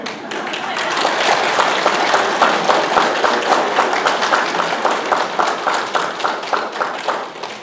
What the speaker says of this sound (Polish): to zaczęliście od razu bić brawo